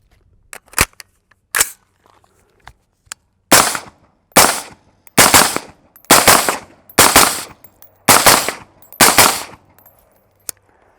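Rifle shots fired through a SureFire SOCOM 5.56 suppressor, a series of sharp, loud cracks at irregular intervals, several in quick succession, with quiet gaps between them.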